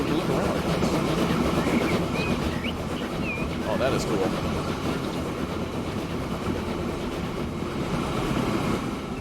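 Train rolling along rails in Transport Fever 2, ridden from an onboard first-person view, a steady loud rumbling wash with faint clicking as someone speaks briefly over it.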